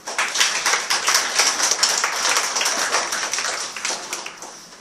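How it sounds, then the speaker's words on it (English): A congregation claps together at the close of a church service, dense continuous handclaps filling the room, moderately loud and steady with no talk over them. "Why don't we give the Lord a clap offering?"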